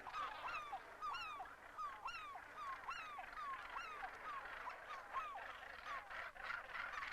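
Dense chorus of harsh, repeated gannet calls from a crowded colony on Bass Rock, overlapping continuously at moderate loudness with no pauses.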